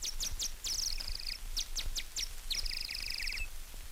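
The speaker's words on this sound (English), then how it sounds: "you're actually going to hear the chirping of birds before the music gets started" Birds chirping at the start of an old Maghreb music record: quick bursts of high, bright tweets and trills in a busy rhythm, fairly faint over a soft hiss of surface noise.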